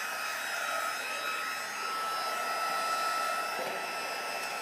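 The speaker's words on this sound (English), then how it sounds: "I'm going to heat emboss the clear embossing powder. So I'm going to be quiet while I run my gun." A heat gun blows steadily to melt clear embossing powder on card stock, a continuous close-up whooshing hiss that holds level throughout with no talking.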